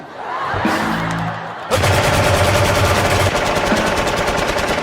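A rapid, loud burst of machine-gun fire fills a Thai slapstick military comedy scene; it starts after a short muffled stretch and then rattles on continuously to the end.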